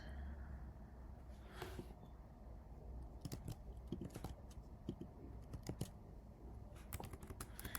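Fingers type a prompt on a computer keyboard, quiet irregular bursts of clicking keystrokes with short pauses between flurries, close and alone.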